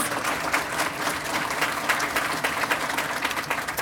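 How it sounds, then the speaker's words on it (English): Audience applause for a student essay writer at a women's awards ceremony, a dense, steady patter of many hands clapping throughout at moderate loudness, with no voices over it. "Give her another round of applause."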